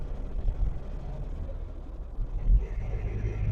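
Diesel engine of a Force Traveller AC T1 van pulling in gear from inside the cabin: a low, steady engine drone with road rumble, moderately loud and continuous.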